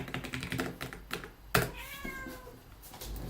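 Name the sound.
cat meowing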